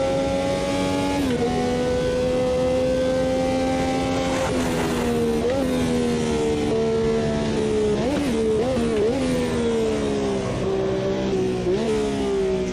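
Brabham BT46B fan car in Automobilista 2 racing sim, its engine revving loud and continuous, pitch dipping and climbing with each gear change and throttle lift, dense and close with no talk over it.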